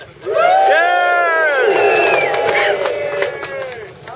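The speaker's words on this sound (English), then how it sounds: "Everybody give me a cheer." An outdoor crowd at a Bonneville event bursts into cheering and whooping on cue, a loud swell of many voices with rising shouts that tapers off over a few seconds.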